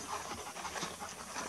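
Dogs pant rapidly and continuously in a rural outdoor setting, a soft, breathy rhythm heard close by at low volume.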